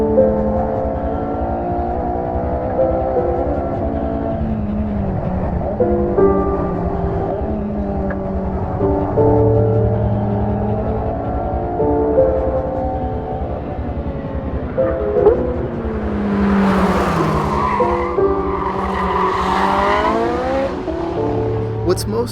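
A 2015 Porsche 918 Spyder in hot lap mode accelerates hard, its engine note rising and falling through gear changes, loud and close, with a voice over it and a sharp surge of higher-pitched whine near the end.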